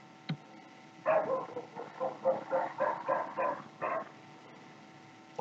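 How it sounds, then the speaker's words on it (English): A neighbor's dog barks in a series of about a dozen muffled, fairly distant yaps in an uneven rhythm, set against a quiet indoor background hum, with a sharp click at the start. "Sorry if you can hear that dog barking."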